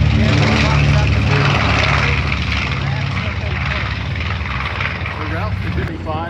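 Twin Wright R2600 radial engines, 2,600 cubic inches and 1,750 horsepower each, roar loud and steady as a vintage aircraft runs close by, with a low throbbing drone.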